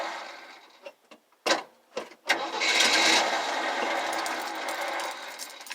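A 1978 Jeep CJ-7 with an ignition fault gives a few short stuttering clicks and bursts, then its engine cranks in a loud, continuous, strained churn without catching.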